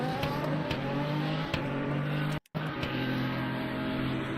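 LMP3 prototype race car engine in an endurance racing video game at Imola, a steady loud drone with revving and harmonic whine throughout, briefly cutting out to near silence mid-clip before resuming.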